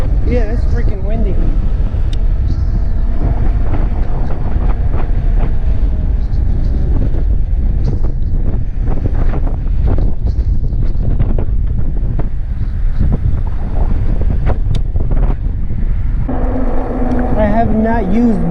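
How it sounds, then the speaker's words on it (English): Heavy, continuous wind roar buffets the microphone while riding a Nakto Super Cruiser fat e-bike, loud and unbroken throughout, with brief traces of a voice near the end. "Yeah, it's freaking windy."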